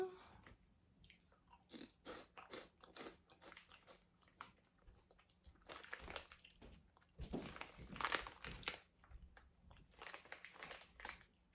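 Crunchy biting and chewing of pickled onion flavoured snacks, close up, in a run of loud crisp crunches and quieter chews over about eleven seconds, with no talk.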